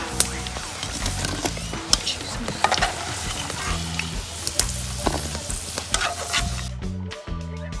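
Pressed green plantains fry in a pan with a steady, dense sizzle, punctuated by stirring clatter and scraping; a voice talks intermittently over the crackling, which drops off briefly near the end.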